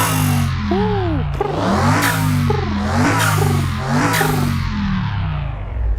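A car engine in the Car Mechanic Simulator video game revs hard several times in a row, loud and close, with pitch sweeping up and falling back between bursts and no voices over it.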